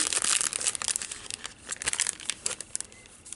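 A collectible pack with a gold foil wrapper being handled and opened, giving a quick stream of bright, close crinkling and crackling with small tearing snaps.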